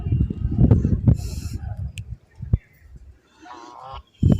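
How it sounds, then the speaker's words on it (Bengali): Ducks kept at a home, honking and quacking nearby in short bursts with gaps between, a voice speaking alongside. "তার আগে আমি ঘুরিয়ে নিয়ে আসছি আমার বাড়ির হাঁসগুলো দেখিয়ে"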